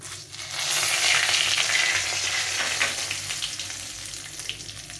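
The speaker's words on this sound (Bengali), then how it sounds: "এখন আমি এই করার মধ্যে প্রথমে একটু জিরে তেজপাতা আর শুকনো লঙ্কা ফোড়নে দেব" Cumin seeds, bay leaf and dried chili hit hot oil for tempering a fish curry, a sudden loud hissing sizzle that swells then settles into a steady crackle, close with no talking.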